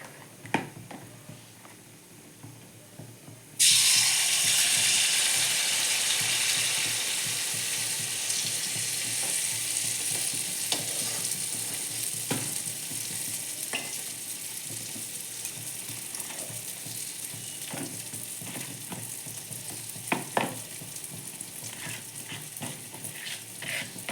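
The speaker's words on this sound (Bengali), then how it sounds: "অল্প অল্প তেল দিয়েই আমি পিঠেটা করে নিচ্ছি।" Pitha frying in a small amount of oil, a steady bright sizzle that starts abruptly and holds loud and close, with occasional crackles and pops and no talking.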